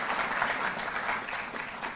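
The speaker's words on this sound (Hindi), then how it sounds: "एक बार जोरदार तालियों से आइए इन सब का अभिनंदन और स्वागत करें।" A seated audience at an awards ceremony honouring national athletes claps steadily, a dense wash of applause at moderate distance with no talk over it.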